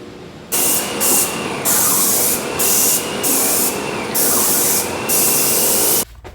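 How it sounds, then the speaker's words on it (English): Fluid Film undercoating is sprayed under a van in a long, loud, continuous hiss. The spray pulses slightly from short trigger changes, then cuts off abruptly near the end. No voices are heard. "We're going to go through and undercoat the whole thing. Do the fluid film again this year like we do every year."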